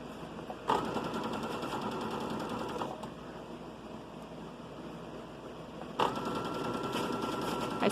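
A sewing machine stitches a children's outfit in a steady mechanical whir, with brief louder clicks near the start and again toward the end, close and without speech.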